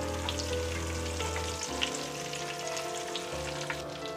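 Whole garam masala spices frying in melted butter and oil over a low flame for a matar paneer pulao, a steady close sizzle with light scraping stirs and a low background hum throughout.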